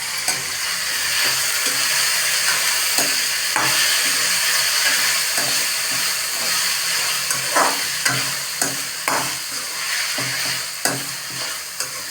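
Onion and tomato sizzle and hiss in a pan for dhaba-style paneer, with a spoon scraping and stirring through them in repeated clattering strokes, loud and close with no talking.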